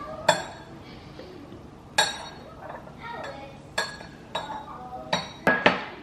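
A spoon clinks against a coffee cup while coffee is stirred, with about eight sharp, bright taps spaced irregularly over a quiet room background.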